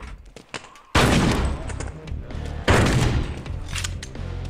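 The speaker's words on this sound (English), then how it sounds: "This is the shotgun I love." Shotgun blasts in the VR game Death Horizon: Reloaded, with two loud, sharp booms about two seconds apart, each trailing into a rumbling echo.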